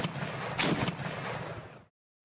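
A tank gun fires once in the video game Armoured Commander II, a sharp loud boom with a rolling decay that fades to silence.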